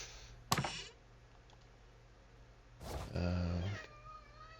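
A pet cat named Hobbs meows, with a sharp click early on, then a clear drawn-out meow near the end over a quiet room hum.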